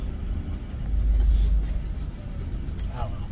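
A two-wheel drive truck drives along with a low, steady engine rumble and road noise from inside the cab, swelling briefly before settling back.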